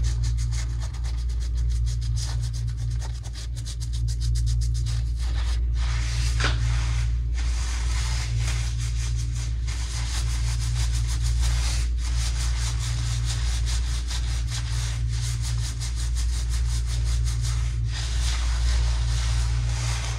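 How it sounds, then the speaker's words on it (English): Fingertips scrub wet natural hair during a wash, a close, continuous rubbing and scratching with rhythmic strokes over a steady low hum. "just use the tip of your fingers to scrub it"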